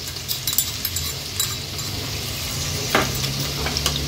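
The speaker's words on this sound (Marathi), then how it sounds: "तेल गरम झालं की हा चेचलेला लसूण आपण सर्वात आधी फोडणीला घालणार आहोत" Crushed garlic hits hot oil and sizzles steadily and close up, with light clinks and stirring scrapes scattered through, while a mixed-fish curry is started.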